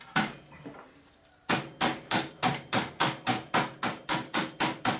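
Metal hammer blows drive the axle through a spacer on a 1988 Harley-Davidson FXR motorcycle: a couple of early strikes, a pause, then about fourteen sharp, evenly spaced close hits in a steady rhythm.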